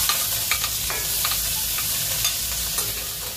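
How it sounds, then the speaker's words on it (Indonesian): Garlic and shallots sauté in leftover frying oil, giving a steady sizzle with occasional spatter pops and stirring scrapes throughout, close and fairly quiet, with no talking. "Ada minyak sisa menggoreng, tumis bawang putih dan bawang merah."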